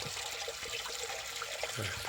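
Water pours steadily from a pipe into a concrete pond for raising field eels, a constant broad splashing rush with no pauses.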